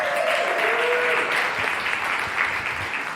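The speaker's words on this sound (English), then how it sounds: "Can we give a big round of applause to Judy?" A live audience gives a round of applause for a guest at a tech event, broad sustained clapping from a crowd filling the whole stretch without speech.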